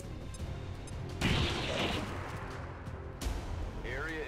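A grenade blast in the XCOM 2 tactical game, a sudden loud burst with a crashing, rumbling tail, then a second heavier hit near the end, set against a constant battlefield ambience.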